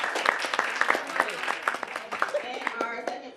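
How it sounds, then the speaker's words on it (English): A school audience at a 1st–8th grade spelling bee applauds the first place winners, with steady clapping that thins out toward the end while people talk over it. "let's give a round of applause to our first place winners"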